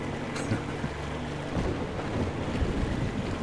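Storm wind and rolling waves in Metro Exodus form a steady, loud wash of broadband noise that stays even for a few seconds with a faint low rumble underneath.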